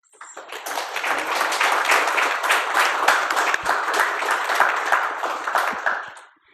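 A lecture audience applauds to welcome two speakers, dense steady clapping swelling in quickly, holding for several seconds, then fading out.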